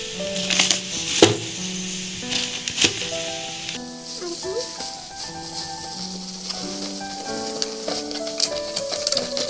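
Potatoes fry in a pan with a steady, close sizzle, punctuated by occasional sharp clatters and heard under prominent tonal background music.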